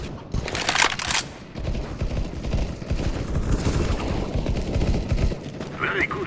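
Gunfire in Counter-Strike: Global Offensive team deathmatch on the Dust 2 map, loud bursts of shots over busy game noise, with voice callouts mixed in.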